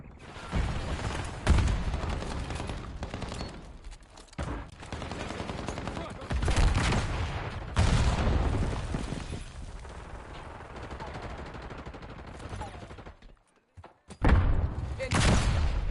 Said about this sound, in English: Breaking out rocket launcher